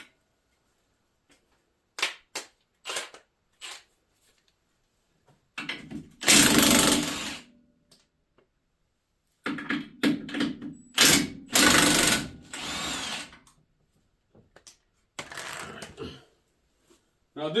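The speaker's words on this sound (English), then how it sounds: "now I'm going to remove these bottom bolts for the strut, which is an 18 millimeter" Power tool bursts, likely an impact wrench, remove 18 mm bottom strut bolts on a 2023 Ford F-150 during a leveling kit install. Several short loud bursts come in irregular clusters with quiet gaps between them, close to the mic.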